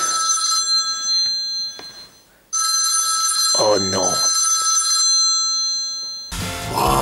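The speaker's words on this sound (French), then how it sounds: "Le téléphone qui sonne." A telephone rings in loud repeated electronic trills, bursts separated by a pause, while a voice speaks briefly between rings.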